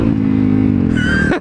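A dual sport motorcycle engine revs briefly and loudly close by, with a steady droning tone that rises in pitch near the end.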